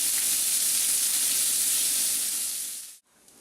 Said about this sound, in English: So we put our onions and our celery, or our shallots today, into a pan, and we're just going to cook these down until they're nice and tender